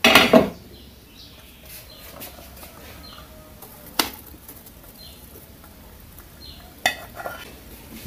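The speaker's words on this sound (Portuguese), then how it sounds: "Misturar essa pipoca com esse caramelo" Popcorn being stirred into melted sugar caramel in a pan, with a few sharp scraping knocks and faint rustling, nearby and otherwise quiet.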